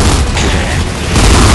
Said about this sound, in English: there's a gunfire going on out here